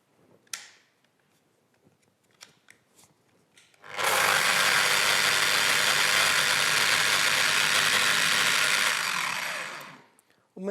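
A Festool eccentric sander runs in geared mode. After a few light handling clicks it starts up into a loud, steady, close whirring hiss that holds for about six seconds, then winds down and stops.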